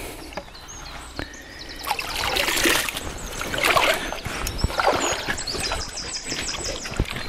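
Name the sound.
birds singing by a stream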